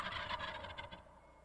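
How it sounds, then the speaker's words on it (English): A wild turkey gobbler, a tom, lets out a single rapid rattling gobble that fades out after about a second, clear and alone. "The gobble is a sound that the male or the tom emits to attract hens"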